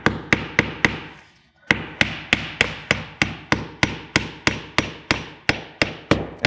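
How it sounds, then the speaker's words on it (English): Hammer driving a nail into vinyl siding on a house wall, a steady series of about sixteen sharp, loud strikes at a regular quick rhythm with one brief pause, close by and without talk. "we'll just drive that nail just so it's touching"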